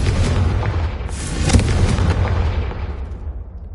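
A Confringo fire spell bursts in the Hogwarts Legacy video game, a loud sustained explosive roar with a sharp crack about midway, rumbling steadily before tapering off.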